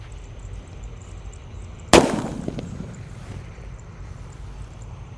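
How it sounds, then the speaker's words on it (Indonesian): A mercon elang firecracker goes off with a single sharp, loud bang that decays into a crackling, rumbling tail, heard outdoors over steady wind noise. "Lanjut di sini ada mercon elang mas guys. Ini meledusnya 2 kali di bawah dan di atas ya."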